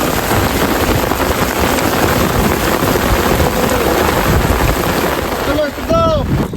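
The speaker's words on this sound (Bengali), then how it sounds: "দাঁড়াও, বৃষ্টি থামার জো নেই, প্রচন্ড বৃষ্টি, প্রচন্ড বৃষ্টি।" Heavy rain pounds down in the Sundarbans, a loud continuous wash of drops that dips briefly near the end, when a few short rising tonal chirps cut through.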